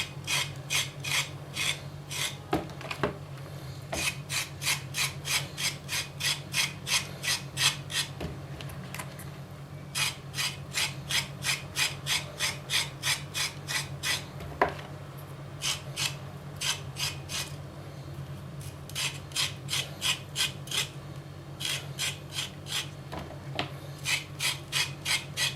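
Zucchini being hollowed out with a hand corer, giving steady rhythmic rasping scrapes in quick bursts with short pauses between, close and continuous over a low background hum.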